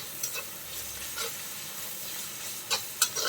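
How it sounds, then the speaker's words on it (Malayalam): Sliced onions sautéing with salt in a pan for a buffalo meat fry, a steady soft sizzle broken by a few scraping stirs near the end, no voices. "ഇനി നമുക്ക് നന്നായിട്ടൊന്ന് വഴറ്റിയെടുക്കാം. ഉപ്പ് കൂടി ചേർത്ത് കൊടുക്കാം. സവാള പെട്ടെന്നൊന്ന് വഴന്ന് വെക്കട്ടെ"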